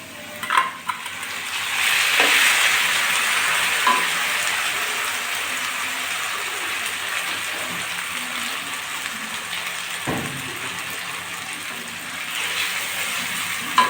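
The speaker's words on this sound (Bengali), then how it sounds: "আলুগুলো আমি লাল করে ভেজে নিয়েছি এবার বেটে রাখা মশলাটা দিয়ে দিচ্ছি এখানে" Ground paste of cumin, chilli, ginger, garlic and onion sizzles in hot oil with red-fried potatoes, a steady broad frying hiss lasting throughout with a few soft clinks and scrapes, no talking.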